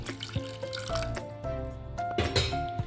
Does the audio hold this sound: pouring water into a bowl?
yes